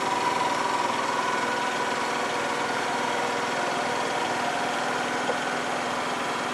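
A rice transplanter's small engine runs steadily through a field turn, a constant close, loud mechanical drone with a vibrating hum and no voices.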